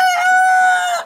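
Backyard chickens making a single short, loud, close call with a clear tonal ring.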